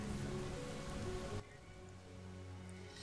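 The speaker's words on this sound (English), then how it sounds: "All right, banish the rain. Banish it. At last, a break in the storm." Steady rain pours in the Lara Croft and the Temple of Osiris game, a dense hiss that suddenly drops to a quieter patter partway through.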